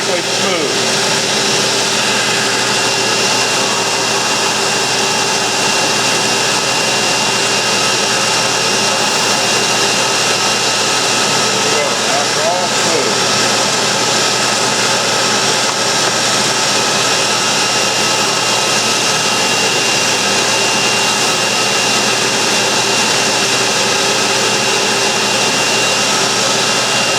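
A sander smoothing a wood carving of a horse runs alongside a shop vacuum, together forming a loud, constant roaring whine that holds steady with little change throughout.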